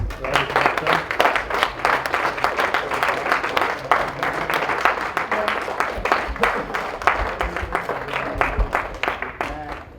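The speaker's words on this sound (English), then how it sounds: "give the bride and groom's parents a big round of applause" Wedding guests clap for the bride and groom's parents, a ragged burst of applause with individual claps standing out, mixed with voices chattering and cheering through the crowd.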